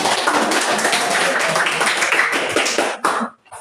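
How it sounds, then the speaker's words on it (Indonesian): Students in a classroom clap for a group about to present, producing a fairly loud, busy burst of clapping with some voices mixed in, ending abruptly into near quiet. "kami tepuk tangan dulu untuk kelompok lalat"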